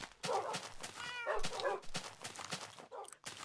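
Cats meow in Minecraft, several short mewing calls in close succession, quiet and near, with a few higher yelping notes between them.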